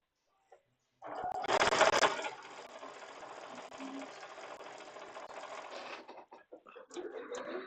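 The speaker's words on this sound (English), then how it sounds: "Whenever you're working with these really long strip sets, just let the machine do the work." Sewing machine stitching long quilt strip sets, starting after a brief pause and running as a continuous fast mechanical whir with a louder burst at first, then stopping near the end.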